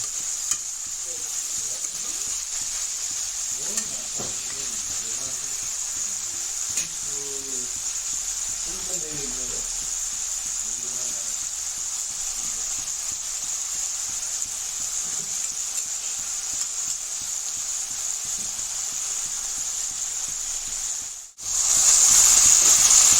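Ginger garlic paste and water sizzle steadily in a hot pan, a constant bright hiss running throughout with soft stirring and faint background voices, ending in a brief pause before the sizzle flares louder.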